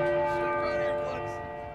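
A huge bell struck in Uncharted 4: A Thief's End rings out loud and close with a rich metallic tone that slowly fades over nearly two seconds.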